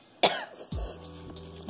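A sharp cough followed by a throat-clearing cough from someone eating spicy ramen in a challenge, two loud close bursts with no talk.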